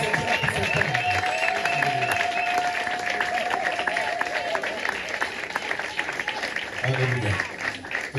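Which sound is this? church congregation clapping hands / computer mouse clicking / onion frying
church congregation clapping hands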